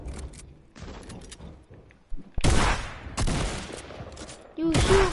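Gunshots in a video game come in uneven bursts. Quieter scattered shots give way to louder, closer volleys of rapid fire, and a short electronic chirp cuts in near the end.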